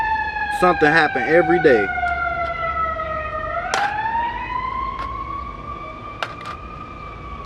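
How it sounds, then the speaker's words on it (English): Police car sirens wail nearby on a Chicago street, one tone sliding up and down while another rises, with someone briefly speaking over them at the start. "y'all gonna keep hearing police sirens"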